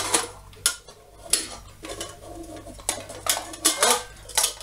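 A JetBoil camping cookware set, including a frying pan, a large pot and its lid, clatters as the metal pieces are handled, giving repeated close, sharp clanks and rattles.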